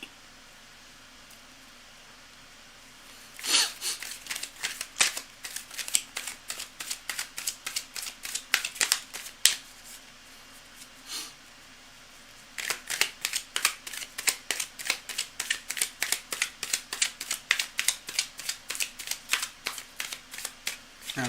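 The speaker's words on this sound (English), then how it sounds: "I'm shuffling them again as they come out of the box." A deck of cards is shuffled fresh out of the box in repeated bursts of crisp riffling and flicking, close and fairly loud, with a short pause between two long runs.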